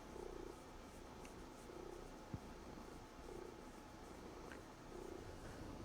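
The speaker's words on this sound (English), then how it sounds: "she's standing right by the microphone too. So you can probably hear some good purrs." A cat purrs close to the microphone, a steady low rumble that swells and fades in a slow breathing rhythm, with a brief click partway through.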